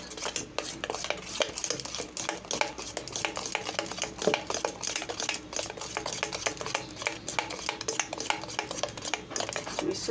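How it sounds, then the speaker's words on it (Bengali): A salted batter for a vegetarian papaya fritter recipe being whisked hard in a bowl: a dense, continuous run of rapid metallic clicks and clatter, steady and fairly close throughout. "দিয়ে আমি ভালো করে ফেটিয়ে নেব"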